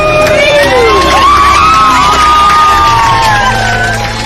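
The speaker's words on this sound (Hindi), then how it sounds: "और फिर सभी बैठे लोग जोर से चिल्लाए" Plane passengers shouting and cheering loudly right after landing, a dense crowd of yells and whoops filling the cabin at steady high volume throughout.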